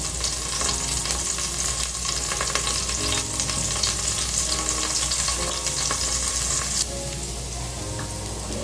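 Onion sizzles in a hot pan while browning, a steady close crackle of frying with small pops and stirring scrapes, continuous and fairly loud throughout with no voices.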